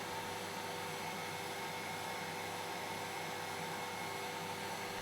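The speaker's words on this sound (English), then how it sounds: "vacuum table can be partially dried using a hairdryer." A hairdryer blows steadily over damp paper on a vacuum table, a constant whirring hiss with a motor hum, close and unbroken.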